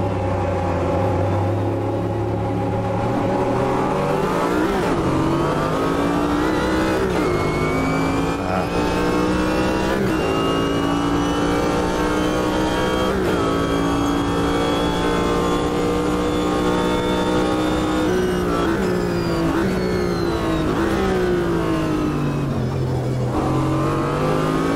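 A Corvette GTP Group C race car at Hockenheim revs hard and loud through its gears, rising in pitch with each gear and dropping sharply at every shift, continuous and close for the whole run.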